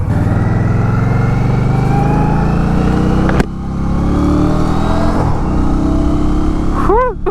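An Indian Scout Rogue motorcycle is ridden, its engine droning steadily and close up, with rising revs as it accelerates, a brief dip partway through, and a few short chirps near the end.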